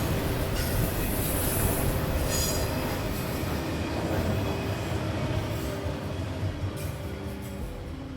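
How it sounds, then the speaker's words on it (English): Mixed freight train hauling many auto racks rolls steadily past at close range, a continuous loud rumble of wheels and rail cars with occasional faint wheel squeals and clatter throughout. "the train changed into a mixed freight with lots of auto racks"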